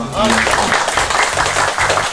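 An audience at a media launch event claps loudly over a voice, with brisk, dense clapping running the whole way while someone speaks over it.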